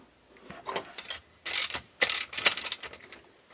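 Hand ratchet tightening a bolt on an 80LP brake actuator being rebuilt on a 2009 Ranger boat trailer: several close bursts of rapid clicking pawl strokes with short pauses between them, no talking.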